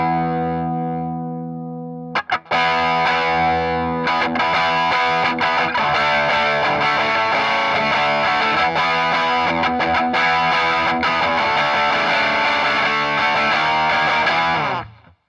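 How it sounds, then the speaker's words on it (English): An electric guitar, a Westcreek Explorer-style model, runs through a ProCo Rat distortion pedal with gain about a quarter up. A held chord rings, then loud, sustained distorted strumming continues for most of the clip before cutting off. "Now, let's hit it with some distortion here. Turn the Rat on. Got the distortion about quarter of the way up."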